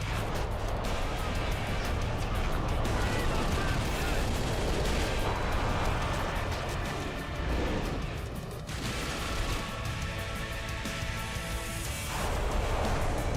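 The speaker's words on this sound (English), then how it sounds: "who is shooting at me?" Video game gunfire, a dense, loud barrage of shots and booming impacts that roars continuously and briefly thins in the middle before picking up again.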